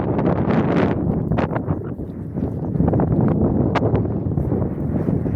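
Steady loud wind buffeting and roaring throughout on a mountain hike in Nasugbu, Philippines, with gusty rumbling and occasional rustling, no voices.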